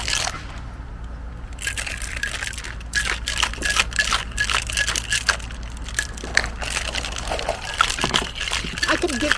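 Ice rattles and crunches in a cocktail shaker as it is shaken in a steady, busy rhythm, close and loud, while people chat in the background.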